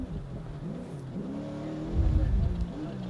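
Baja 500 race vehicle revving hard with its wheels spinning and clawing at dirt, a loud, rough engine roar that swells and thickens toward the end, with people talking over it.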